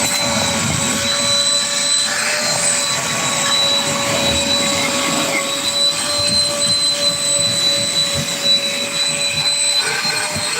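A Dnipro-m cordless vacuum cleaner runs inside a car with a steady, loud whine and hum that stays continuous and close throughout.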